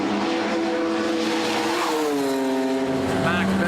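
BMW E30 320 race cars in a New Zealand one-make racing series, engine note sustained and rising as cars pass, with a race commentator talking over the top throughout.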